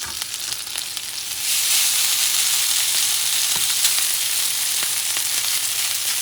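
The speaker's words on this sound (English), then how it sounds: "it's time to start adding that rice" Rice tipped into a hot pan for chicken fried rice, sizzling loudly and continuously after a quieter start, with light stirring taps and no talk.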